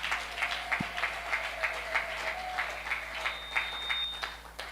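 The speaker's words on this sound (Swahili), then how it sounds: "Tuwapigie makofi mzuri." Crowd applause at a family gathering or celebration, steady rhythmic clapping from many hands that continues evenly throughout, moderately loud and fairly close.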